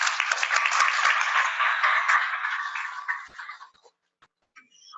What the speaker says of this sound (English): So I think we should all give Monica a big hand of applause.